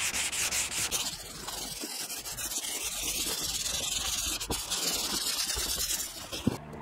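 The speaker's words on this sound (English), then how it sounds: "We got about half of the sanding done." Body filler on a car fender is sanded by hand in long diagonal strokes, a steady close rasping and rubbing with brief pauses between passes.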